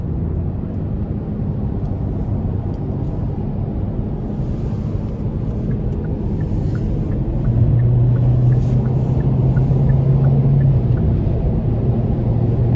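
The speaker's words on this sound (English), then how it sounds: "you can see here how high I get up as I give it just a bit of gas getting up to speed here" A 2024 Hyundai Venue SEL with a 1.6 engine and CVT accelerating on the road, a steady low cabin rumble that rises with a droning engine tone partway through, alongside wind and road noise, and no talking.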